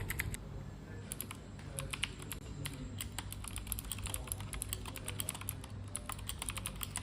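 Steady, rapid clicking from typing on a Blackbird TKL mechanical keyboard with blue switches, close and crisp, continuous keystrokes with no talking.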